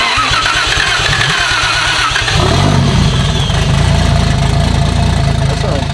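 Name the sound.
swapped Toyota 1JZ engine starting up in JZX100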